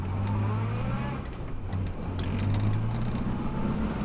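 A 1962 Morris Minor fitted with new brake shoes pulls up, its low engine hum and road noise steady and close throughout, with a faint squeal partway through.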